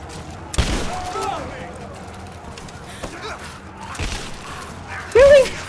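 Shotgun blasts in the video game Rise of the Tomb Raider, a few sharp broadband bangs spaced a second or two apart over game ambience, with a voice briefly talking.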